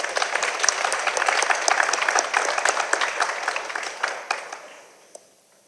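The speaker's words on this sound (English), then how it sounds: "Let's give them a round of applause for the hard work they're going to do." Steady applause from an audience at a community planning meeting, a dense wash of many hands clapping that carries on for several seconds and then tapers off.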